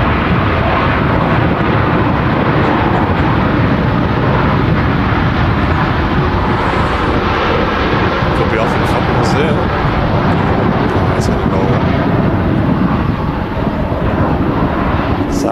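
A Saudi airliner inbound from Jeddah lands at a very windy Manchester Airport, a loud, sustained roar of jet engines mixed with heavy wind rush that continues unbroken, with a commentator talking over it.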